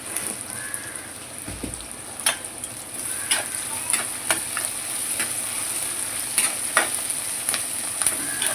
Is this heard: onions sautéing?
yes